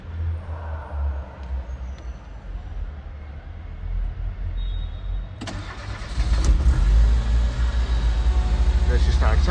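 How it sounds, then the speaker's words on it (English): A 22-year-old Tata Indica petrol car cranks and its engine catches about halfway through, settling into a steady, louder idle up close over earlier low rumble from a busy Mumbai street. "There she starts up. It's a petrol car."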